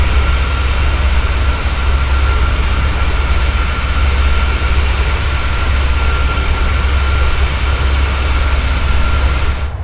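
Airliner jet engines in Microsoft Flight Simulator roar steadily at close range, a dense constant rumble with a high whine layered on top and no talking, holding level for the whole stretch.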